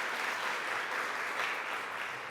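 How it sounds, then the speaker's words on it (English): An indoor audience at a bill-signing event for domestic violence survivors gives a speaker a round of applause, a dense, steady clapping that fills the whole short stretch. "Let's give Jennifer another round of applause."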